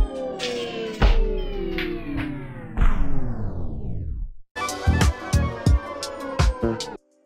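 A Denon Prime 2 DJ controller with stop time set to slow winds down a playing track. The music sags gradually in pitch and slows to a halt, then restarts with punchy beats before cutting off.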